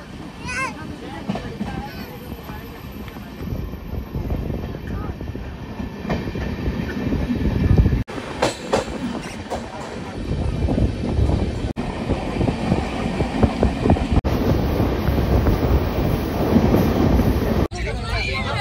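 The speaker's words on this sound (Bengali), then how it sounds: "ট্রেন এসে পৌঁছে গেছে ধানবাদ স্টেশনে" A train pulls into Dhanbad station, its wheels rumbling and clattering close by in uneven bursts, with wind buffeting the microphone and voices talking over the noise throughout.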